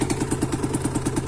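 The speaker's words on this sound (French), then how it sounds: "écoutez bien le moteur, enfin le pot d'origine" A Sherco SMR motorcycle idles through its original exhaust, a fast, even thumping pulse with a slight clatter, close and steady, with no voices.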